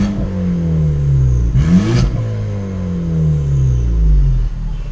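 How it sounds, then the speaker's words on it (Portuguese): A Chevrolet Tracker Premier 1.4 turbo engine, Stage 2 remap with downpipe, idles in neutral, then revs up sharply once and falls back, its pitch sliding down as it settles into a rumbling idle. "Se a gente colocar na neutro e dar uma leve aceleradinha, ó."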